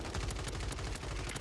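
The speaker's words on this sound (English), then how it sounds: "I'm gonna shoot this fucking gun" Rapid automatic gunfire from a gun in Call of Duty Warzone on Rebirth Island, a steady close, loud stream of shots in quick even rhythm with no pause.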